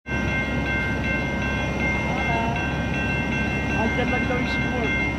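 A train rolling past near the San Diego harbor, a continuous low rumble and rattle of rail cars at steady loudness, with people chatting faintly beneath it.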